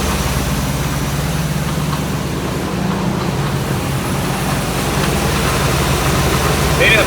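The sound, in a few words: 1984 Chevy Blazer engine running, suspected power steering noise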